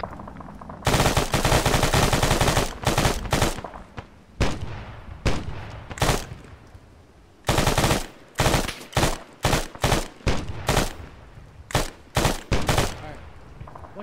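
Gunfire in the video game Arma 3: long sustained automatic bursts alternating with short rapid volleys and single sharp shots, loud and close, with brief pauses between strings of fire.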